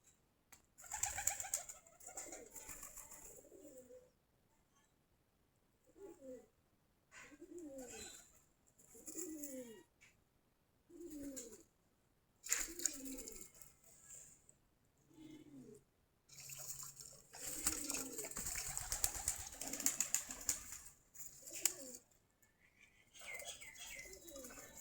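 Native pigeons coo repeatedly in soft, rhythmic bouts from close by in a loft, with faint chirps and occasional wing rustles between calls.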